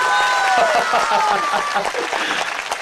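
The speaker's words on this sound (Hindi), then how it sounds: "आप ताली बजाए ना बजाए, पर मैं ताली बजाता हूं आपके लिए" Audience clapping at a religious discourse and poetry gathering in Ghazipur, a short loud burst of applause with a voice talking over it.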